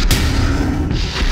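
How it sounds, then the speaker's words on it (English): Layered fireball effect for an ogre's attack in a video game, built with an electronic kick drum for weight: a single heavy, booming blast with a sharp burst at the start and a dense rumbling tail. "For the ogre's fireball, I blended together several elements."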